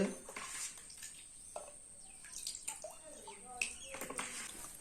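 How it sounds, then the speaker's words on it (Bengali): Rose water splashes and trickles into a small 100 ml bottle in short irregular pours, close by, with a voice and some chirpy background sounds around it. "তো আমি এই বোতলে ভরে দেখাচ্ছি তোমাদের"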